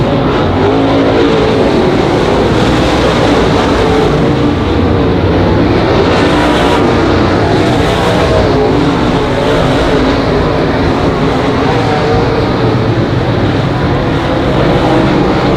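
Race cars lap Monarch Motor Speedway in the closing laps of the A main, their engines a loud, continuous roar that swells and fades slightly as the pack passes.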